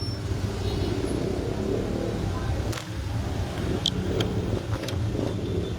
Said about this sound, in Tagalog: Traffic makuha pa dito sa Mabini